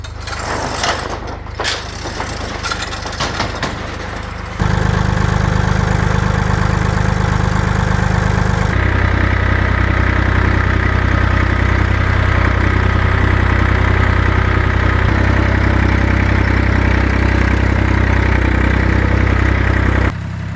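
A tractor engine starts up with some clanking, then settles into a loud, steady low idle that runs on without talk.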